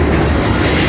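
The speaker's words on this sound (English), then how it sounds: "Our train is big and it's heavy and it's loud." Heavy 350-ton tourist train rolling on rails, a loud, steady low rumble with a rhythmic clatter of wheels throughout the whole second.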